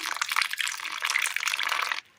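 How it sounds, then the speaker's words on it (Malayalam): Water is poured into a bowl of gram flour batter with cooked spinach and crushed chilli, a short hissing gush lasting about two seconds before it stops abruptly. "ഇതിലേക്ക് ഒരൽപ്പം വെള്ളം കൂടി ചേർത്ത് കൊടുക്കാം."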